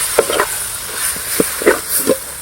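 Curry leaves are sautéed in a pan for a village-style egg masala gravy, making a close, steady sizzling hiss dotted with scattered sharp crackles and pops.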